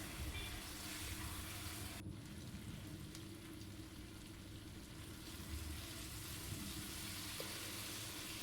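Chicken roast pieces frying in a spice mix in a pan, a steady, close sizzle and crackle running throughout with no voices.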